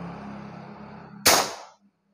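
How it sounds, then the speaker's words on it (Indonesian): A single sharp PCP air rifle shot firing a 12-grain pellet cracks out after a low steady hum, then quickly fades to silence. "Ya, tembakan pertama."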